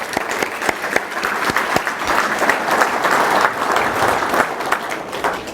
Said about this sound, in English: just everybody give them a round of applause